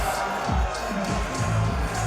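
Wrestling crowd booing and jeering at Caleb Conley during a Juggalo Championship Wrestling show, a dense, steady roar of many voices with some shouts rising through it.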